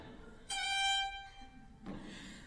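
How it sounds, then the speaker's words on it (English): A quick Cape Breton wiggle ornament on fiddle, one short bowed note with a fast turn, quiet and close, followed by a brief soft noise. "But people in Cape Breton call it the Cape Breton wiggle,"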